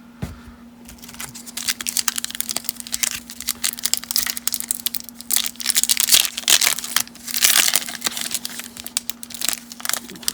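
Crinkly foil wrapper of a 1992 Studio baseball card pack being torn open, a close, continuous run of dense crackling and tearing bursts that swell and fade over several seconds, with a steady low hum underneath and no talking.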